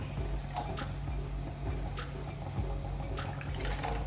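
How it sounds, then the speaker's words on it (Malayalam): Water is poured into a pot of curry, a continuous splashing, running stream with small clinks, close and moderately loud, with no talking. "ഇതിനകത്ത് കുറച്ചുകൂടി വെള്ളം ഒഴിച്ച് കൊടുക്കണം."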